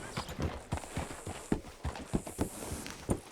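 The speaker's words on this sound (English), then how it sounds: "Hitch your horse up here." Horse hooves clip-clop at a walking pace in the video game Red Dead Redemption 2, a steady run of soft, close hoof strikes over faint ambient background.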